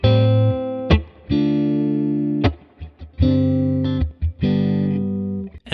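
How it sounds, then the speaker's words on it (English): Electric guitar lick played in the style of a blues song, with sustained, distorted bent notes and short pauses between phrases, loud and close with no voices. "I think we could all hear that first lick played by the guitar is pretty much the same thing."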